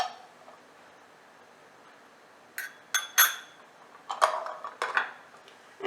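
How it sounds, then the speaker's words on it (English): A metal teaspoon clinks several times against a glass while stirring homemade ginger syrup made with sliced ginger, a few sharp, fairly quiet taps spaced irregularly over a faint background hush. "Make sure to stir."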